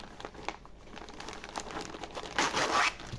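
Plastic zip pouch being unpacked, with close, fairly quiet crinkling and rustling of the plastic and a louder tearing crackle near the end.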